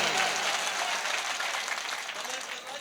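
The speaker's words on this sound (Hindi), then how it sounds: "एक बार जोरदार ताली बजाइए।" A packed audience at an All India Mushaira poetry gathering breaks into loud, dense, sustained applause that carries on steadily throughout.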